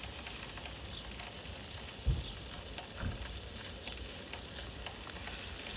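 Scallops frying in a pan make a quiet, even hiss throughout, with two soft low knocks from the pan near the middle and no one speaking.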